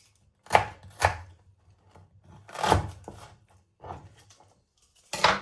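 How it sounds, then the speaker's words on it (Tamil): A knife chops tomatoes and onions on a board while a home meal is prepared: a few sharp, distinct strikes spaced irregularly across several seconds, close and fairly loud, with no talking. "தக்காளி பழம் வெட்டிட்டோம். வெங்காயத்தையும் விட்டோம்."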